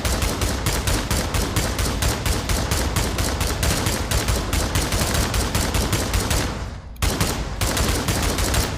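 A PKM machine gun fires long sustained bursts in the Pavlov video game, rapid even shots close and loud, with a brief pause near the end before firing resumes.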